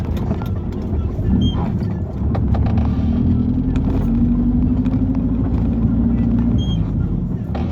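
Steady low engine and tyre rumble from a vehicle driving on a road out of Zaporizhzhia, continuous and close throughout, with a faint tonal whine rising in the middle.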